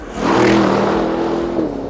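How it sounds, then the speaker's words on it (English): A 2025 Aston Martin Vantage V8 supercar revs up, heard from inside the cabin as a strong, steady engine drone that swells and then eases slightly, with no voices over it. "while the engine does sound quieter than V8s of old, you can still hear a lot of it inside"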